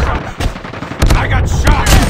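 Bursts of rapid gunfire and heavy shots in a first-person shooter match, loud and close, arriving in clustered volleys while a player shouts over them.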